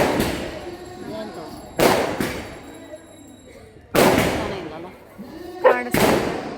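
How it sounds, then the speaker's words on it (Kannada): Firecrackers burst at a Ganesh immersion crowd, four loud sharp cracks spaced about two seconds apart, each ringing out briefly over a steady hum of the gathered crowd and background noise. "ಪಟಾಕಿ ಹೊಡ್ತಾರೆ ನೋಡಿ ಗೈಸ್"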